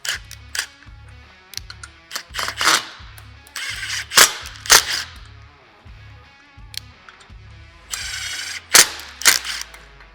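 Screws are started into a SuperATV Outfitter Sport roof rack bracket on a Can-Am Maverick X3, giving a rapid series of clicking, ratcheting driver bursts with short pauses and some sharp metallic knocks.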